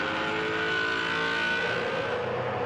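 Australian Supercars race cars running three wide, a dense, sustained engine roar at high revs with layered tones from several cars at once, loud and continuous, with no talking.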